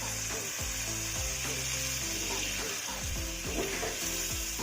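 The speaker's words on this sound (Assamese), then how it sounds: "এইখিনি মই এতিয়া মছলাখিনিৰ লগত দুবাৰমান লৰাই ল'ম যাতে মছলাখিনি ইয়াৰ ভিতৰত ভালদৰে সোমাই যায়" Pointed gourd pieces sizzle and fry with spices in a pan while being stirred, a steady crackling hiss overlaid with repeated scraping and knocking from the spoon against the pan.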